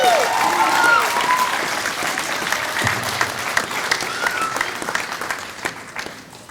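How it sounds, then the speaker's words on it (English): A warm round of audience applause greets Miss Dee Dee Goodspeed at a healthy-students event, steady dense clapping lasting throughout with a few sharper claps standing out. "Please give a warm round of applause to Miss Dee Dee Goodspeed."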